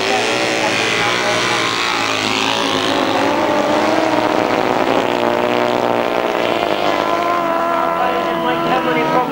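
Speedway motorbikes racing down the back straight, a loud continuous high-revving engine roar with rising and falling pitch as the bikes pass, under steady commentary.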